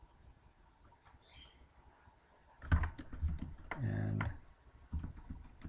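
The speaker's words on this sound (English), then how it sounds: "let's type that in right here" Fingers type an answer on a computer keyboard in quick bursts of close clicking keystrokes after a quiet start, with a brief spoken word among them.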